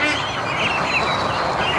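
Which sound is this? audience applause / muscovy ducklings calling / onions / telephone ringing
muscovy ducklings calling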